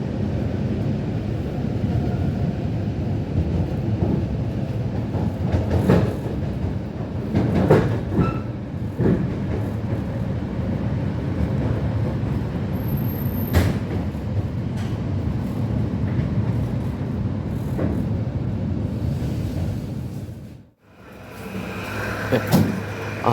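A Russian commuter train near Moscow rolls through the city with a steady, loud rumble and a few brief clanks, then the noise dips sharply for a moment near the end before resuming.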